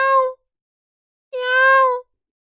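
A voice imitates a cat meowing twice: first a brief nasal mew, then a longer, drawn-out meow after a pause, clear and close with no other sound.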